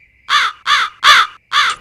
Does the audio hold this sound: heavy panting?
no